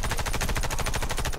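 Rapid automatic gunfire from the online shooter Warface in a free-for-all match, a dense, steady stream of shots rattling continuously for over a second at close range.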